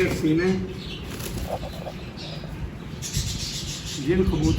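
Wings flap and rustle in short bursts near by, with a pigeon shifting about and faint coos, while someone talks over it.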